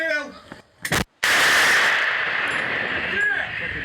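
A single sharp, heavy blast from an artillery cannon near Marinka, Ukraine, followed by a long rumbling roar and hiss that slowly fades, with faint scattered noises before it.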